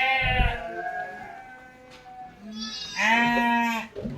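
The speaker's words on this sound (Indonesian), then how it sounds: "Ini lihat kanan dan kiri semua kambing, bisa didengar di situ juga sahabat-sahabat." Several goats bleat loudly and nearby on a large goat farm, one long quavering call followed after a pause by another, over a low background murmur of the pen.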